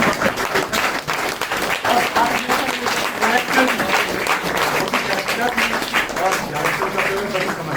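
A theatre audience claps for a first-time director, a dense, sustained roll of applause that stays loud and even from start to finish, with voices mixed into the crowd noise.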